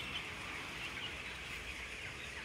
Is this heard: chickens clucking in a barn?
yes